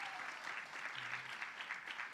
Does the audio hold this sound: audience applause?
yes